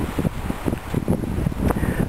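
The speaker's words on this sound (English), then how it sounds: "it's getting windy out here." Gusty wind buffets outdoors in uneven bursts, rumbling low and close against the microphone throughout.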